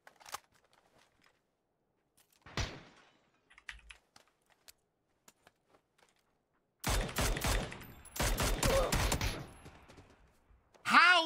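Bursts of rapid gunfire in the battle royale video game PUBG on Erangel, with scattered single shots and clicks, then a dense, loud volley of automatic fire and a final sharp burst.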